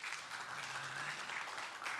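A conference audience at a university research panel claps in sustained, dense applause, a steady crackling wash from many hands filling the room without a break.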